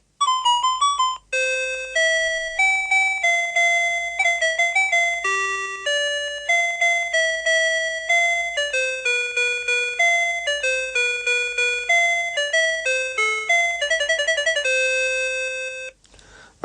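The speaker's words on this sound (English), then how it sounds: "if you have not heard the Sharp talking time, Brian Gaff has come to the rescue. This is what it sounds like" An electronic chime melody plays from a Sharp talking clock. Clear, bell-like notes follow one another in quick succession for about sixteen seconds, loud and close, with no talking.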